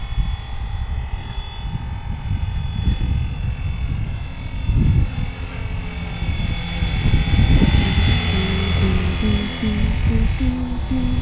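A steady engine drone with a high whine sits under a low rumbling roar that swells and fades, like a plane taking off not far away.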